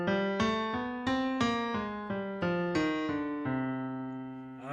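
A C melodic minor scale played descending in its classical form with flatted sixth and seventh, roughly ten clean single notes stepping down one by one, the last ringing out.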